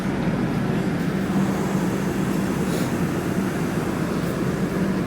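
Continuous low rumble and hiss of a train at a station in Kerala, India, on the Varkala to Trivandrum route, steady and unbroken throughout, with no voices or distinct events standing out.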